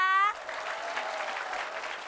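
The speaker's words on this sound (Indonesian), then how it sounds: "Tepuk tangan untuk Tika." Audience applause at a comedy talent show, a steady wash of clapping from a crowd that follows a short musical sting and carries on alone.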